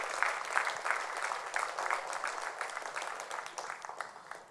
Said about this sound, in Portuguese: Podemos aplaudir o Senhor por esta palavra,